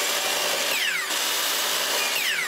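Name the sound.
miter saw squaring the end of a maple piece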